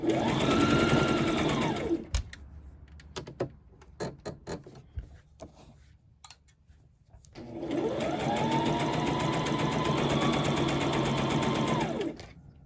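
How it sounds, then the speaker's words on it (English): A sewing machine runs a straight stitch down the inner and outer seams of a jogger pant leg, in two long steady bursts separated by a few seconds of quiet handling and fabric shuffling. "you're just stitching straight down on the inner leg and then on the outside leg"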